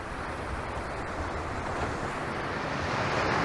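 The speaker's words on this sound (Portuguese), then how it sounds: "sintam lá as ondas a baterem nas pedras alcalinas" Ocean waves crash against alkaline rocks along the Angolan coast. A continuous close roar of surf and wash runs steadily throughout, with some wind noise on the microphone.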